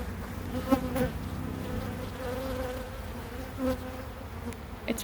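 Steady buzzing of many honeybees all around their hives, a dense hum with occasional louder bees passing close.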